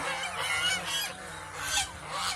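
Several domestic geese feeding on water hyacinth honk and gabble together close by, overlapping nasal calls rising and falling through the short stretch with no talking.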